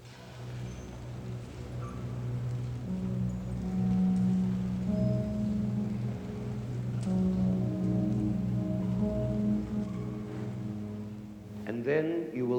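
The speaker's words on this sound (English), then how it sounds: "It is called From Dawn to Noon on the Sea." Orchestra playing the hushed opening of Debussy's La Mer, From Dawn to Noon on the Sea, with low sustained string tones and soft held notes rising gently, a quiet, still texture swelling slightly before a brief flourish near the end.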